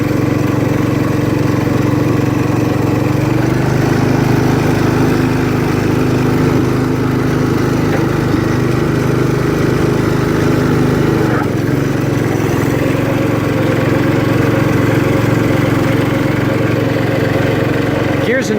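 A 1968 John Deere 110 lawn tractor runs steadily in first gear, its small engine droning loud and close with a constant low hum and a brief dip partway through.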